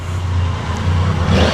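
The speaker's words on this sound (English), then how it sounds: "Triumph Triple sounds good" Triumph Triple motorcycle engine idling and revving at a drive-through car wash, a steady low rumble that swells slightly toward the end, close and loud with no talking.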